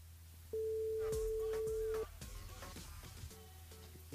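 A steady telephone line tone rings out alone for about a second and a half while a radio host dials a listener for a live phone-in, followed by faint background murmur.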